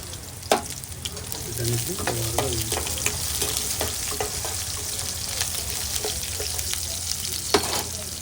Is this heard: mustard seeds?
yes